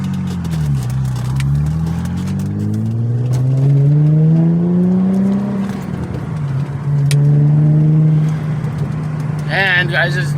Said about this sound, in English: the trick of how to make your car backfire or pop while driving down the road